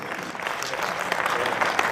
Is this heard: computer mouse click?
no